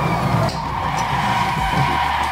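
Tyres skid and squeal under hard braking in a racing game played on a PNX V10 steering wheel, a continuous screech over a low engine drone, close and fairly loud.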